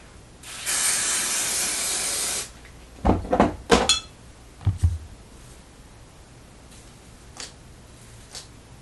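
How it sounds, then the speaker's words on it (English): A steady spray of lace bond adhesive hisses for about two seconds, followed by a few clicks and knocks of handling, then near quiet. "I'm gonna go in with my Red by Kiss lace bond spray."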